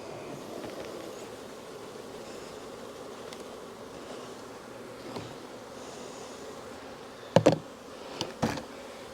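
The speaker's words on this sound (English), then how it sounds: "Actually, I got some bees in my nuke box there." A steady low buzzing drone of many bees in a nuc box fills the background, with a few louder knocks and thumps near the end.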